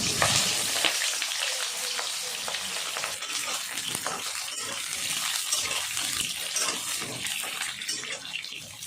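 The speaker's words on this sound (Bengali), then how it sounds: "ওই তেলে পটলগুলোও ভেজে নেব।" Pointed gourd pieces fry in hot oil in a pan, giving a continuous close crackling sizzle with occasional stirring scrapes throughout.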